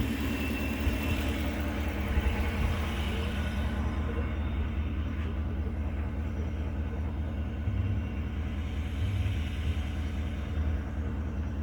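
A truck rumbles past on a road beside swampy woodland at a turkey-hunting campsite, a steady, loud low engine drone that fills the whole stretch without easing.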